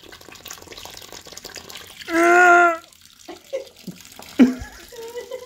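Water bursts out of a pushed Aqua Bag in a short, strong gush of under a second. Small splashes and drips follow, with faint sounds around them.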